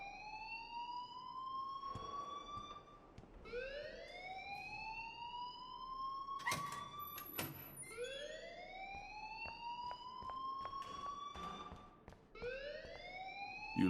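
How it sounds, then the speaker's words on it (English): An alarm rings in the Life is Strange video game with a repeating rising electronic whoop, each sweep climbing then holding, cycling steadily and fairly loud, broken by a couple of sharp clanks midway with no talk. "please turn off that alarm since that's your job"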